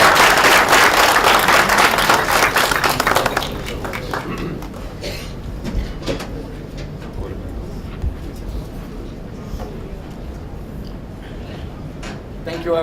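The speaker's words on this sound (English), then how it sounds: "round of applause, please" An audience at a master class session applauds a presenter taking over: a burst of loud, dense clapping for about three seconds, then quieter scattered claps and room noise.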